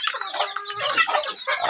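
A chicken clucking steadily in a rural backyard, a run of close, busy clucks with short raspy bursts and no talking over them.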